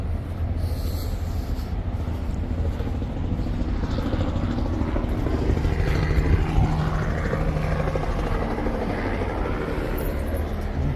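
Heavy rotor thudding fills the air as a helicopter comes in to land outdoors, holding a steady, fairly loud beating roar that swells slightly midway through.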